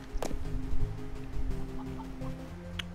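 Game chicken from King Arthur's Gold clucking in short bursts over a steady hum of background music, with a sharp peck-like click near the start and another near the end.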